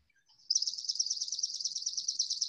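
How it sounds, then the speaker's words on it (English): Swamp sparrow song played back from a birding app: a steady, rapid trill of bright, even notes held for about two seconds after a few faint opening chips, clear and alone with no voices. "So I'm going to play for you the sound of the swamp sparrow."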